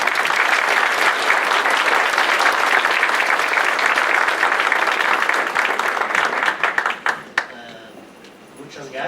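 Sustained applause from a conference audience fills the room, steady and loud for several seconds before tapering off into scattered claps.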